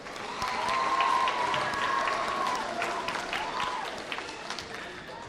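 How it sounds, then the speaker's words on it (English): Applause from a crowd of parents and families at a junior high school awards assembly, clapping swelling quickly and holding steady before easing slightly, with murmured voices underneath. "let's give your parents a round of applause and families as well"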